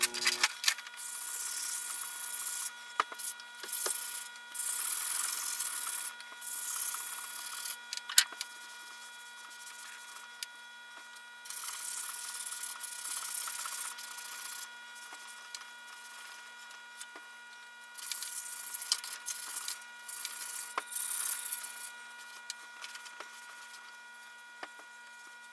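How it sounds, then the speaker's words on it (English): Wet sanding of a wooden rifle stock with water-soaked sandpaper on a hybrid rifle build, a steady soft scrubbing hiss with rhythmic strokes and pauses, close and alone without speech. "I'm using water to wet the paper."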